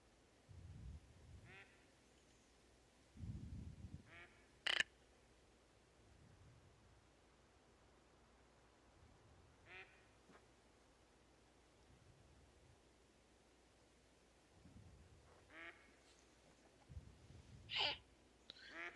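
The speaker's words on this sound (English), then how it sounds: "I hear the ducks." Ducks quack in short bursts scattered through a quiet outdoor scene in the hunting game Call of the Wild: The Hunter, the calls moderately distant against a faint ambient hiss.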